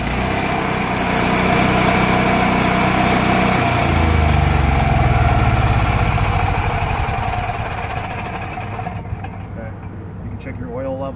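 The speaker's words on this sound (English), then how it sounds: "you can also, by the way, start the generator from the outside as well." Generator on a 2008 Weekend Warrior FK2100 toy hauler RV runs steadily and loudly with a throbbing engine drone, fading somewhat near the end; speech is also present.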